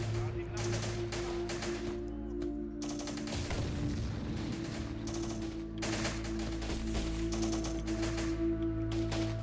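Rapid bursts of automatic gunfire from the Syrian Warfare video game crackle almost continuously in dense volleys, with a steady hum underneath throughout.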